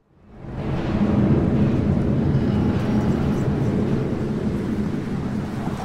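An aircraft sweeps past in the Deus Ex: Mankind Divided video game. The deep roaring rumble fades in quickly, then holds loud and steady, like a heavy engine drone passing overhead.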